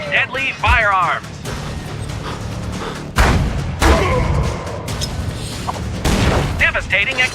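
Battle royale video game combat bursts with booms and rapid fusillades of gunfire, loud impacts scattered through the stretch, with a narrator's voice speaking over parts of it.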